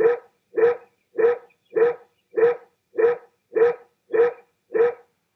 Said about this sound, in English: That Dog Can Sell Anything.